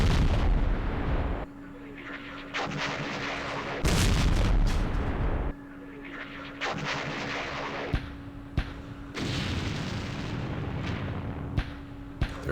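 Artillery barrages in the Vietnam war game Campaign Series Vietnam, set at Dien Bien Phu: heavy booming blasts and rumbling impacts in several loud bursts, with a steady hum running underneath.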